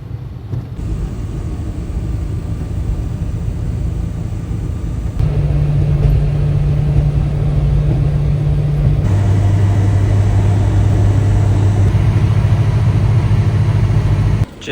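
Car engine drones steadily while driving through New York traffic in a turbocharged Suzuki Carry kei truck, a loud continuous low hum whose pitch shifts a few times as gears and speed change, with no talk.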